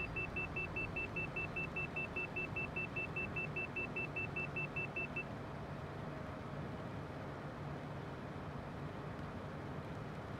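An airliner's engines at full thrust in Microsoft Flight Simulator make a steady, loud cockpit drone, with a repeating electronic warning beep over the first half before it stops, and no talk.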